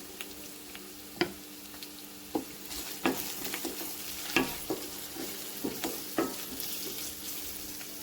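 Ginger garlic paste and turmeric fry in a pan with a soft continuous sizzle, while a spoon scrapes and taps at irregular intervals close by.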